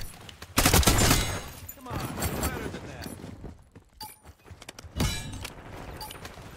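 Gunfire from a weapon with heavy recoil in the video game Black Ops 6 comes in a loud burst near the start and again around five seconds, with rattling impacts between. A voice talks over parts of it.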